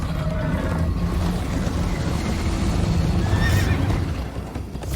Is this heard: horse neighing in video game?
yes